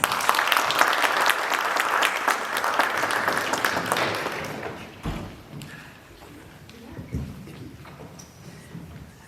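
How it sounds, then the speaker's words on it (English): A crowd applauds a speaker coming on stage at a university storytelling event, loud sustained clapping for several seconds that dies away into scattered claps, thumps and quiet room noise. "Please welcome Daniel West on the stage with a round of applause."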